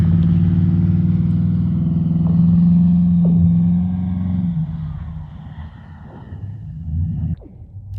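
A car doing donuts and fishtails on a frozen northern lake rumbles with a low, steady engine drone that swells, then fades as it moves away, with faint revving toward the end.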